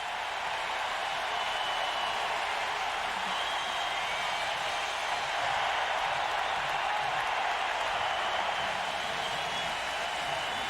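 A stadium crowd at a 1995 NFL game between the Dallas Cowboys and Washington Redskins cheers as the first half ends, a broad steady roar of applause and voices that holds at full strength the whole time with no talk over it.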